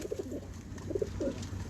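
A domestic pigeon on a rooftop loft coos softly in a few short, low, throaty phrases, faint against a quiet background hiss.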